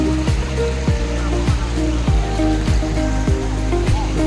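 Mangala Dhara waterfall at Tentulikhunti, Nabarangpur, Odisha, gives a loud, continuous rushing roar of falling water over rocks, heard close up, with regular low thumps under it.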